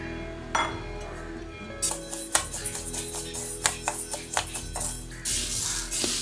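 Coriander seeds and black peppercorns roasting in a metal pan: a spoon scrapes and clinks against the metal while scattered sharp pops and crackles come through, close and fairly loud.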